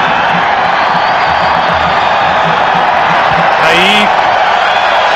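Stadium crowd of about 55,000 at a 1994 Canada versus Brazil soccer friendly, a loud, dense roar with scattered shouts and whistles, a commentator talking over it.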